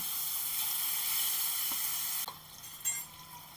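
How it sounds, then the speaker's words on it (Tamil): Raw banana slices frying gently in oil on a low flame, a soft, steady sizzle close by with a couple of faint clicks near the end, no voices. "சிம்லேயே வச்சு இப்படி வறுத்துக்கோங்கப்பா"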